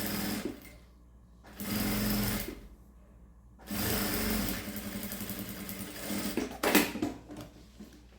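Sewing machine reverse-stitching across fabric for a zipped box pouch, in several loud bursts of steady whirring separated by short pauses, with no talking.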